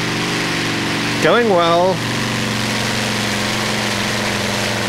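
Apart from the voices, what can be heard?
pulling tractor with 14-cylinder Hercules star motor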